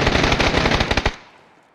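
An enemy fires repeatedly in the video game PUBG, a rapid burst of about a dozen close, loud shots that ends abruptly and then rings out briefly, with no talk.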